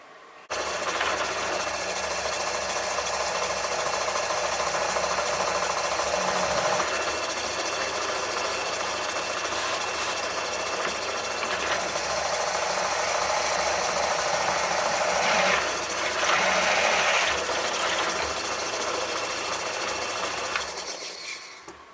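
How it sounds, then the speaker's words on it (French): A steady, loud motorized drone of a drill press running continuously, with slight shifts in pitch and intensity as it bores holes in a kit car bumper. "je vais faire ça à la perceuse à colonne"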